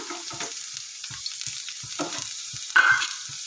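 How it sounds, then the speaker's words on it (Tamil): Crushed garlic sautés in hot oil in a kadai, a steady sizzle with soft stirring scrapes at close range and a brief louder flare near the end. "அந்த பூண்டை போட்டு வதக்கணும்."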